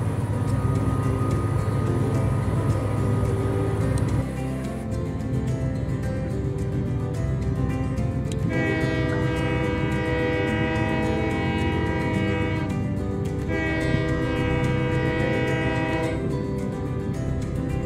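A train engine in the railway simulator Train Life rumbles steadily as it accelerates, with a loud, sustained horn blast sounding twice over the continuous rail noise; no one speaks.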